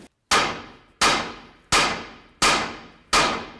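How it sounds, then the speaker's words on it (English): Five sharp hammer blows on a ball joint being seated into the lower control arm of a 1992-2000 Chevy Tahoe, each a loud metallic clang with a ringing decay, spaced evenly about two-thirds of a second apart. "give it a couple more loving bonks with your hammer"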